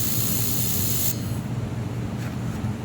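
An air-cooled handheld laser welder fires with a loud, steady spray-like hiss that cuts off abruptly after about a second, leaving a lower rumbling machine hum.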